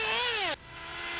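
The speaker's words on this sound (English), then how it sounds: "When your engine sounds like this, you've found the best high-speed needle setting." A Duratrax nitro RC car engine at its best high-speed needle setting gives a brief high-pitched whine that drops in pitch, then falls to a quieter steady tone.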